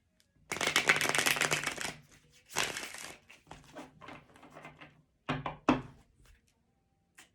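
A Marseille tarot deck is shuffled up close: a long riffling burst, then a shorter one, followed by scattered card taps and flicks and a couple of brisk snaps near the end.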